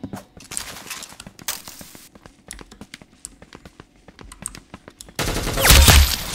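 Rapid gunfire from a first-person shooter video game crackles in quick, sharp bursts, some of them clustered, and ends in a louder sustained volley.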